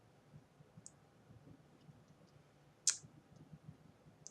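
A single sharp computer mouse click on a web link, close and crisp, standing out against a faint background of light ticking and low room noise, with no talking.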